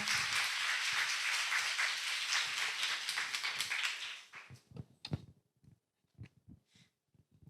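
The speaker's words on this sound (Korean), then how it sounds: "다시 한번 큰 박수 보내주시기 바랍니다." Audience applause at a university student advertising competition presentation, a dense wash of many hands clapping for about four seconds, then breaking into scattered, thinning individual claps.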